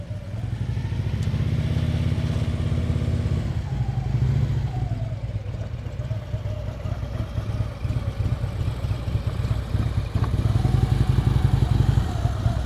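A motorcycle is ridden at slow speed during a riding-skills practice session, its low engine rumbling steadily close by with slight rises and dips in revs and some faint clatter, and no talking over it.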